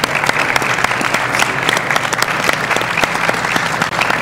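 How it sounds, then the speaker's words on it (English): Audience applause rises at a Mega Man speedrun event during a live marathon, dense and steady with sharp individual claps throughout, loud and close for about four seconds. "I don't know why you're clapping"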